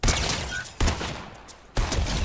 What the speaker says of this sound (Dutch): Er wordt geschoten hoor, ik zie van de schoten al daarachter.